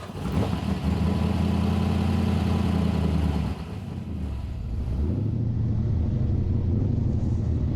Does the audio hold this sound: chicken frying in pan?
no